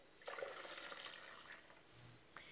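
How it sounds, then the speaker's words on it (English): Chaga horsetail brew is poured from a pot through a strainer into a small carafe, a soft, faint splashing trickle that runs steadily for a couple of seconds. "I'm just going to pour it from here. I have a strainer above my little carafe."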